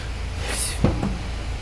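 A car door is opened with a quick latch click followed by a second softer clunk, close and fairly quiet against a steady low background, with no one talking.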